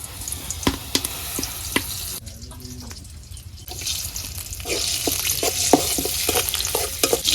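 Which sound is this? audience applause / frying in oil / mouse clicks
frying in oil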